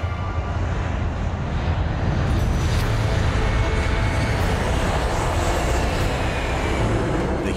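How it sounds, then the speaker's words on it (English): An Airbus A380 rolls down the runway for takeoff, producing a loud, broad jet roar that swells and holds steady for several seconds. "the A380 accelerates down the runway"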